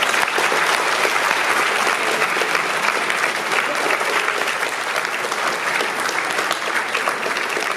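A school honors assembly audience applauds honor roll students with dense, steady clapping that holds at an even level from start to finish, with no voices over it.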